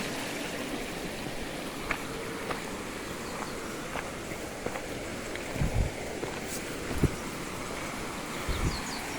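Spring water flows out of a hillside along a trail, a soft continuous trickling wash under scattered footsteps and rustling.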